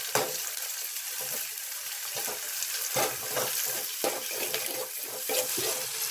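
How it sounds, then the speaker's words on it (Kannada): Tomato frying in a pan for Karnataka-style bitter gourd palya, a bright wet sizzle under frequent spoon stirs and scrapes, close and fairly loud, with no one talking. "ಟೊಮೆಟೊ ಹಾಕಿ ಫ್ರೈ ಮಾಡ್ಕೊಳ್ಳೋಣ."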